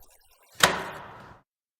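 A door slams shut with one sharp, loud impact, followed by a rattling decay that fades over about a second; no separate lock click stands out.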